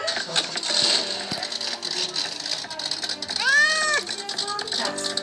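Cats meow in the Goat Simulator PayDay video game, a rising and falling cry around the middle standing out over steady game music and background noise.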